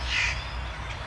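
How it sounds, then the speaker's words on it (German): Crows caw by a small river, a single harsh call rising early and a fainter second call near the end, carried over a steady low outdoor rumble with no one talking. "Oh, blöde Krähen."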